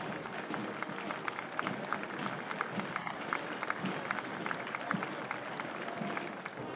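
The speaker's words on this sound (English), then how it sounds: "for soldiers from a country currently at war in Europe, there was spontaneous applause" Spontaneous applause rises from a crowd for soldiers from a country at war in Europe at a World War II 80th anniversary parade in London, steady dense clapping sustained throughout at a moderate distance.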